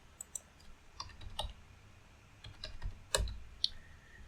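Keys tapped on a computer keyboard while entering survey coordinates, a quiet irregular series of light clicks with a few sharper, louder strikes, close by and with no talk.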